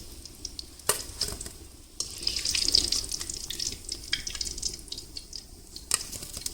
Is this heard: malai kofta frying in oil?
yes